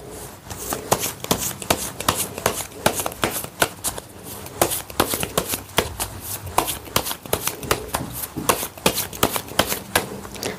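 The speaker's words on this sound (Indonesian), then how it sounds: "Saya akan ambil 7 kartu untuk bulan Januari Minggu Wage." A deck of tarot cards is shuffled steadily up close during a Javanese weton reading, producing a rapid stream of crisp riffling slaps and soft papery taps that continue without pause.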